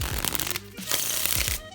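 Rapid, papery riffling of playing cards being shuffled, two bursts of fluttering snaps close up with no voices.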